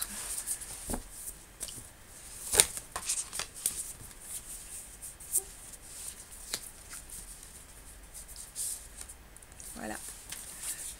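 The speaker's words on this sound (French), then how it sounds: "je vais réellement tirer les cartes." Cartomancy cards being shuffled and drawn at close range: soft papery riffles, slaps and flicks scattered irregularly under quiet French speech, with a few sharper snaps as cards are laid down.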